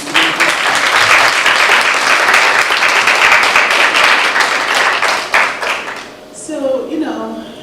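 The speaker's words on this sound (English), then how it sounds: "Round of applause for Anjanou." An audience at a college convocation at Tougaloo College gives sustained, loud applause with dense clapping. The clapping thins out near the end as a voice begins speaking.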